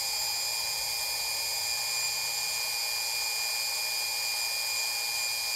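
A fan-cooled AmpFlow A28-400 electric motor runs at about 48 volts with a steady, high-pitched whine and constant whirring hum, close up and unchanging throughout, with no talking.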